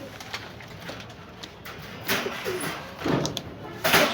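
A purebred Pakistani female pigeon, just let go in a pigeon shop, coos in low, repeated throaty phrases nearby, growing louder toward the end amid faint background clatter.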